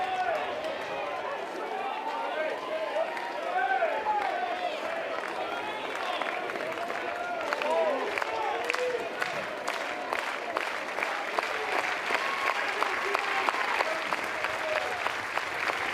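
Crowd of North Carolina baseball fans at a game against USC applauding and cheering, a dense sustained wash of clapping that swells toward the end, with an announcer talking over it.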